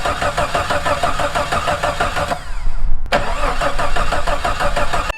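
A Norton Commando motorcycle engine is cranked and started, giving a loud, steady mechanical churn that swells briefly near the middle before settling into a continuous running roar, close to the recorder with no talking.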